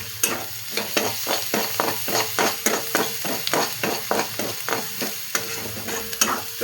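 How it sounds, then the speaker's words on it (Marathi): Ginger garlic paste sautés in a pan for a potato and pea curry, with a steady sizzle under a regular rhythm of spoon scrapes, about a dozen strokes, close and fairly loud, and no talking. "आपण आता आलं लसूण पेस्ट टाकून घेऊ व ती पण चांगली परतून घेऊ"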